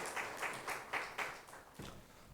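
Congregation applauding during a Korean church's Parents' Sunday worship service, a faint rhythmic clapping in steady beats that fades toward the end, with no speech.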